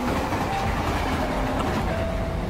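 Loud, continuous rumble and rattle of a train running at full speed inside a horror video game, with steady rolling clatter and faint tonal whines throughout.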